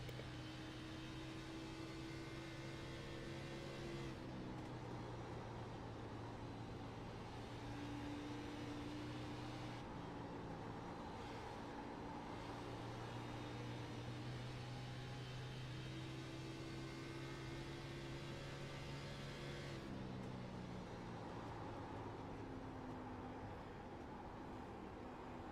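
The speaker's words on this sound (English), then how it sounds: "You can hear these cars on the tire side, that tire screeching just a little bit" Race car engines from the iRacing game at Darlington Raceway drone steadily and loudly throughout, with pitch shifting as the cars work around the track. A faint squeal of tires can be heard along the way.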